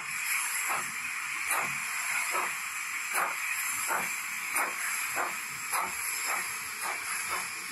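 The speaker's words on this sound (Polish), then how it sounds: "pary są zdecydowanie głośniejsze." Model BR42 steam locomotive with an ESU LokSound decoder gives loud rhythmic steam blowouts, a steady hiss broken by regular chuffing puffs roughly every half second, close and continuous with no talking.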